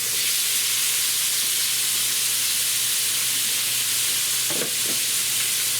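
Large peeled, deveined shrimp hit hot oil and set up a loud, steady sizzling hiss, close and constant, with a couple of brief clatters near the end.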